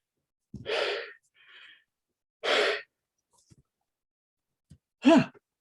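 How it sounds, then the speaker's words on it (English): A man yawns on a podcast, with a few breathy, airy exhalations spaced apart, ending in a drawn-out voiced yawn, close and fairly quiet with no talking in between. "I'm not yawning because I'm tired. I'm yawning because it's warm"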